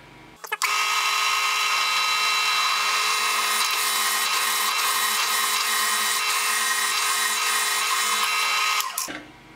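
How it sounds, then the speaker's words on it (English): A power drill runs almost without pause for several seconds, loud and close, with a steady high-pitched whine and grinding as it bores lubricated holes into a metal vise. "so I'm gonna drill a couple holes here"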